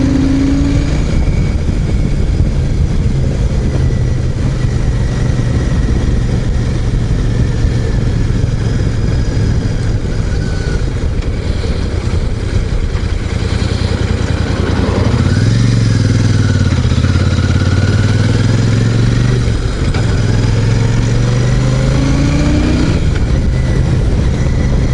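A Royal Enfield 650 Super Meteor in Celestial Red rides along with a loud, steady engine drone, its pitch dipping and climbing through rough gear changes midway, wind noise throughout.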